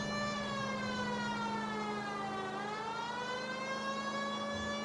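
A police car siren wails continuously in the L.A. Noire detective game, a steady rising and falling tone under a low engine rumble, fairly quiet and alone without talk.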